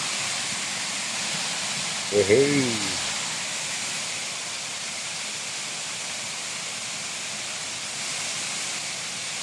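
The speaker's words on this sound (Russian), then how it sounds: "Вот он. Пожалуйста, и сверху на водопадик." A steady broad hiss of falling water from the Dzhur-Dzhur waterfall in Crimea, heard from above, fills the whole stretch, with a brief shout from a man partway through.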